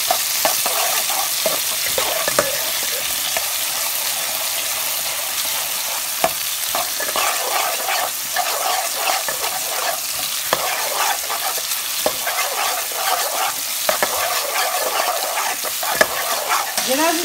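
Onions fry in olive oil in a saucepan with a steady, close sizzle and occasional stirring scrapes, continuing without any talking.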